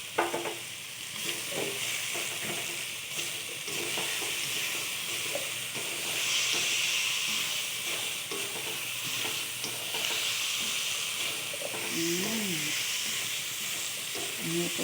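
Potatoes and carrots hiss and sizzle in a pan of cooking Australian beef, a steady close frying noise with stirring scrapes and brief clatters, a voice speaking faintly now and then.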